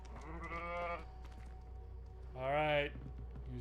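Goats in the Hogwarts video game let out two wavering bleats, each about half a second long, one after the other over a low steady background hum.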